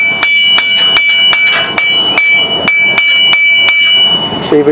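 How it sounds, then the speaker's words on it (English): A sledgehammer strikes a stuck wheel hub on a 2018 Ram 1500 Tradesman 3.6 in about a dozen loud, sharp, ringing metallic blows at a steady rhythm, close by, with no talk over them. "Grab a sledgehammer."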